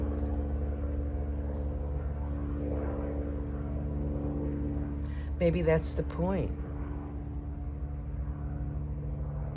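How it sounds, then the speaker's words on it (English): Fixed-wing aircraft passing overhead outdoors, a steady low droning rumble that persists throughout, with a person speaking briefly in the middle. "Excuse the noise. I just started and an airplane flies over."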